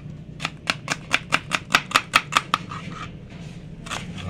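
A knife minces food on a cutting board for Bicol Express, about a dozen quick, evenly spaced sharp chops close by, followed by a softer scraping rustle.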